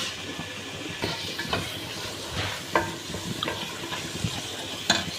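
Six green chillies hitting hot oil with ginger garlic paste for chicken biryani, frying with a steady sizzle broken by several sharp crackles and stirring scrapes close by, no voices.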